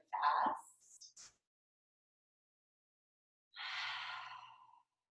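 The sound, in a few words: open-mouth exhales during meditation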